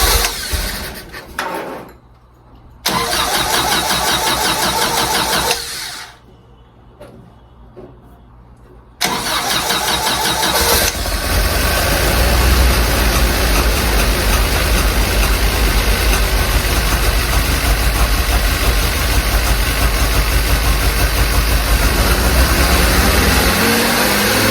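A 1952 Jeep CJ5 engine cranking in bursts with pauses between attempts, then catching and running into a loud, steady idle, with a sticking throttle.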